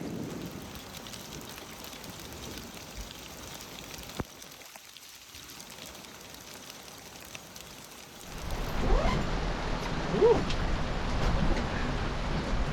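Steady rain patters and hisses outdoors during a winter storm in the Mediterranean, easing briefly before a heavier downpour sets in for the remaining seconds.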